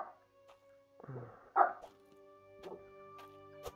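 A dog gives one loud close bark among softer yips and whimpers, over a steady electronic hum from game audio in an indoor setting.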